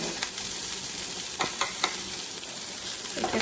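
Ingredients frying in a pan for a bottle gourd and shrimp curry, a continuous close sizzle with occasional stirring scrapes and small crackles, no talking.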